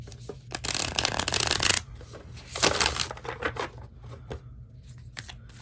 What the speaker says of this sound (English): when you hand over hand them, they're gonna clump together at first